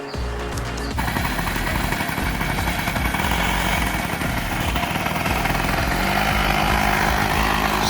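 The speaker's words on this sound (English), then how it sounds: "Stella's first, well actually third motorcycle ride" A Yamaha PW80 small children's dirt bike engine runs steadily during a child's ride, a loud buzzing, sputtering two-stroke drone that holds close and constant after a brief start.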